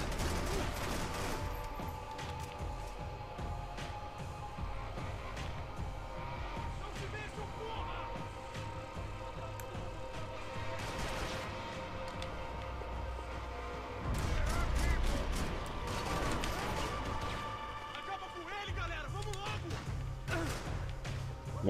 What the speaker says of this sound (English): how's this guy shooting me?